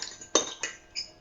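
A utensil clinks against a bowl while stirring a lumpy, not-yet-dissolved jelly mixture, three bright metallic chinks in quick succession, close and clear with no talking.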